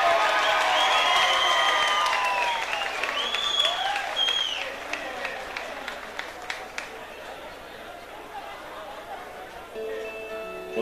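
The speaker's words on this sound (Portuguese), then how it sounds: "quero que vocês recebam com muitas palmas e aplausos, muito barulho" A festival audience in São Paulo bursts into loud clapping and whistles with cheering, which fades to scattered claps and chatter before a voice begins speaking near the end.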